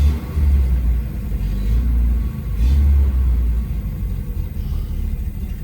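A carbureted Fiat Tempra engine runs after starting and idles to warm up. A steady, close, low rumble swells slightly now and then, with no talking.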